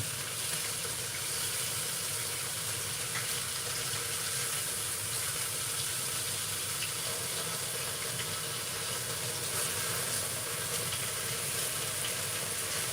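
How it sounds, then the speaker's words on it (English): A steady, even hiss of chicken stuffing casserole sizzling in a hot pan on medium heat continues without a break, with no voices. "it sounds like it's sizzling a whole lot"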